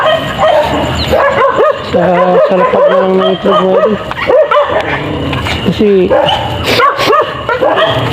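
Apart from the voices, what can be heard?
dogs barking and whimpering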